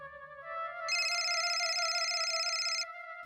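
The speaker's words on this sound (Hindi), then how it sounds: "हाँ देखो, हमारे पीए का फोन है" A telephone ringtone plays alone in a quiet room, a short melodic electronic tone that brightens into a fuller, sustained ring for about two seconds before cutting off.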